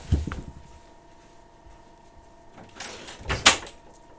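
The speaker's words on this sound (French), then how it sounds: "je vais juste fermer la porte" An indoor door is pushed shut, giving a soft scrape followed by two close, sharp knocks as it meets the frame and latches, in an otherwise quiet room with a faint steady hum.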